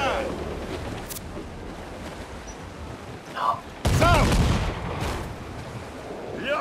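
Volley of cannon and gunfire in Assassin's Creed IV Black Flag naval combat, a loud burst of blasts with wind and sea noise, while voices shout over the battle.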